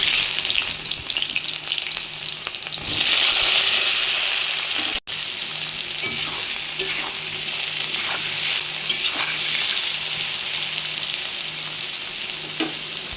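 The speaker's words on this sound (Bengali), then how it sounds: "এবারে পেঁয়াজ দিয়ে দেবো" Onions fry in hot oil in a wok for a mutton kosha, a loud continuous sizzle with brief stirring scrapes and a short break partway through.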